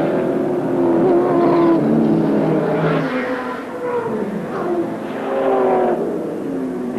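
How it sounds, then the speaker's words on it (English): 1984 AMSCAR touring cars race at Amaroo Park, climbing a hill. Loud, continuous engine roar rises and falls in pitch as the cars accelerate and shift. "Garry Scott leading, going up Bitchapave Hill."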